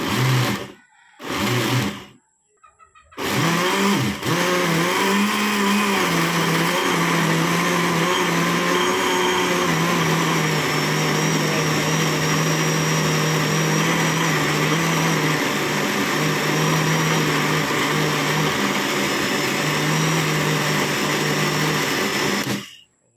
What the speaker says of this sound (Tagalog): Natapos na po ang ating pagbe-blender.